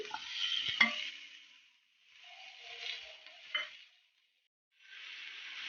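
Onions and tomatoes sautéing in a pan for mushroom biryani, bursts of loud close sizzling as the mixture is stirred, with a couple of sharp scrapes and short quiet gaps between, no talking.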